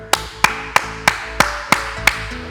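Hand clapping during a home weights workout: seven crisp, evenly spaced claps in a quick steady rhythm, close and loud, over faint background music.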